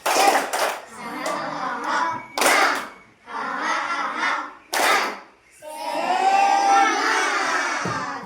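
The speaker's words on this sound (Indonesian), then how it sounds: "Tepuk semangat." A school class claps a rhythmic spirit clap in bursts, sharp group claps separated by short pauses, with children's voices chanting along and a longer stretch of group voices near the end.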